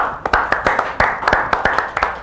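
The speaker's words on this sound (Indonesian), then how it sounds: "Nah, boleh tepuk tangan ya." A small group claps in an indoor studio setting, a short burst of uneven, separate hand claps close by, fairly loud, with no voices over it.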